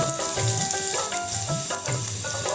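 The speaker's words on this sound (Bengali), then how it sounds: "এবার যে সবজিগুলো কেটে রেখেছিলাম ওইগুলো দিয়ে দেব।" Chopped potato, yardlong beans and pointed gourd hit hot oil for fried rice with egg and vegetables, giving a loud, steady sizzle beneath a tuneful melodic background.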